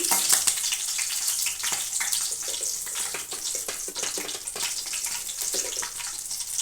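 Torn dried red chilies frying in hot oil in a pan for Telugu taro tamarind soup, giving a steady, dense crackling sizzle that holds without pause, close and fairly loud, with no talking.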